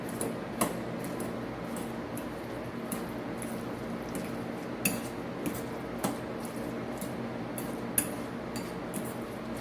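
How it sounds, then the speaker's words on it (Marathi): Avocado sandwich filling with onion being mixed in a bowl, soft close squishing under steady faint clinks and taps of a spoon against the dish. "आधी आपण मिक्स करून घेऊया"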